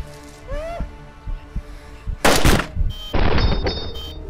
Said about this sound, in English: Oh yeah, I'm shooting him.